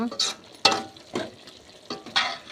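Meal maker chunks and macaroni being stirred in a frying pan, a few separate bursts of spatula scraping and sizzle with quiet gaps between them, close up.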